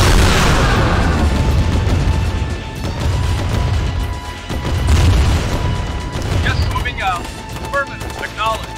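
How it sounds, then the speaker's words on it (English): A nuclear weapon detonates in Command and Conquer, a heavy, rumbling boom that swells and rolls on for several seconds, followed by scattered crashes while a voice speaks briefly near the end. "Nuclear weapon launched."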